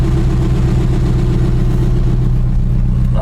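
A 1989 GMC dually truck engine idles steadily and loud nearby after starting, a constant low rumble with no change in pace.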